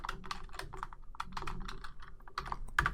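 Rapid typing on a computer keyboard, close and clear, a brisk run of light key clicks with short pauses and a sharper keystroke near the end, no talking.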